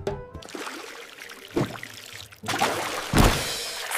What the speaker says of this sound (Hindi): छपाक!